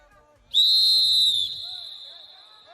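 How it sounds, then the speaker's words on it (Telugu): A referee blows one long, piercing whistle to start a tug of war contest at a public event, holding it for about a second before it fades, with faint crowd noise behind. "Okay, ready for long whistle."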